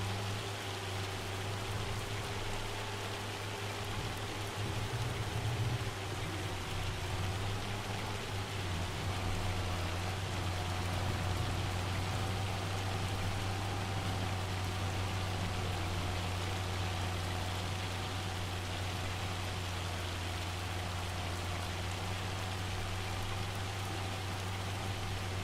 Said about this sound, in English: So it's not rain that we're getting, it's hail.